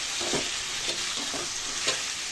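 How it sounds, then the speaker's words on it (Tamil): Onions and tomatoes frying in a pan, a continuous close sizzle broken by several soft rhythmic stirring scrapes, with no voices. "இப்போ பாருங்கள் நல்லா வெங்காயம் ரெண்டு வதங்கிடுச்சு இப்போ தக்காளி போட்டுக்கலாம்"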